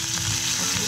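Onions and curry leaves dropped into hot oil for a potato and green pea curry, giving a brief, loud, close burst of sizzling and crackling.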